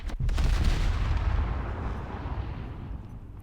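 Naval guns of the battlecruiser HMS Tiger fire in War Thunder Mobile, with a heavy, booming blast at the start followed by a long rumbling roll that slowly fades away.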